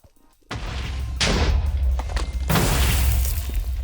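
Explosions in Minecraft from explosive arrows during an Ultra Hardcore match, sudden loud blasts with crunching, crackling debris, one burst after a quiet start, another soon after, then a sustained rumbling boom.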